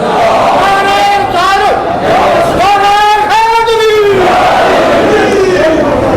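A large crowd at an Urs gathering for Ghaus-e-Azam chants religious slogans in loud, rising and falling unison calls, several bursts in succession, close and forceful, with no break between them.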